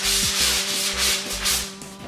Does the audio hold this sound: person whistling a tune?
no